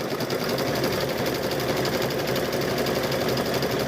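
A sewing machine stitches fabric-wrapped rope into a bowl. The needle runs as a continuous rapid mechanical whir and chatter, close and steady for the whole stretch, with no voices.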